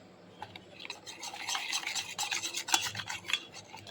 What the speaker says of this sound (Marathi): यामध्येच आपल्याला आंब्याचा पल्प घालायचा आहे आणि चांगले फेटून घ्यायचे आहे.